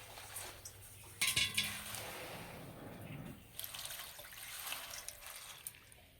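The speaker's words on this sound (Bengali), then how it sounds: "এবার শাকগুলো ধুয়ে নেব।" Freshly picked mustard greens being rinsed in water in a kitchen, with soft splashing, drips and an occasional clink of a pot, quiet and close with no talk.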